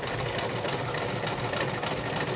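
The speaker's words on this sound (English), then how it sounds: "you should always put your needle down before you start to sew." Electric sewing machine stitching fabric for a stuffed bear, a steady continuous motor whir with rapid needle clatter running unbroken and close throughout.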